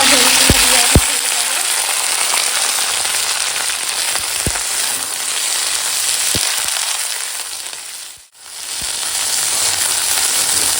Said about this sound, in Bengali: সব উল্টে দিলাম তো দেখো এখন মাছগুলো ভাজা হয়ে গেছে এখন তেল দিয়ে দিয়েছি